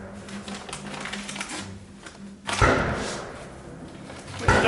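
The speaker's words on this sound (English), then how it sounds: "As you can hear the bang, bang, banging going on outside." Gunshots ring out from people shooting outdoors, heard from indoors as a couple of sharp, heavy bangs with lingering decay over a quiet background of small clicks and taps.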